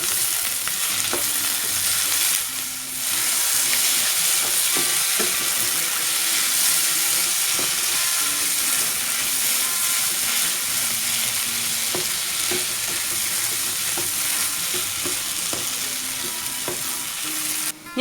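Kerala-style beef fry with curry leaves sizzles steadily in a pan while a spoon stirs it with repeated scraping strokes, close and continuous without speech.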